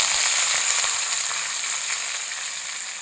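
Dried red chillies and curry leaves sizzle in hot oil while breadfruit upma is being cooked; a steady, loud, hissing crackle runs throughout with no voices.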